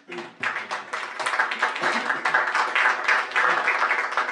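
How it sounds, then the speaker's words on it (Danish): An audience at a Christmas salon applauds Ole Andersen: dense, steady clapping that starts suddenly and keeps building over several seconds, sounding like a full room up close, with faint murmur underneath. "Og det kræver en klapsalve"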